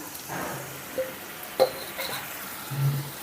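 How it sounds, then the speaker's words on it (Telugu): Tamarind water splashes into a hot pan, setting off a steady sizzle with a couple of sharp metallic clinks along the way. "ఇప్పుడు ఇందులోకి మనం ముందుగానే నానపెట్టి తీసుకున్న ఈ చింతపండు పులుసును కూడా పోసేద్దాం"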